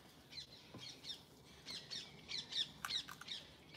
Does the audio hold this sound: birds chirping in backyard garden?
yes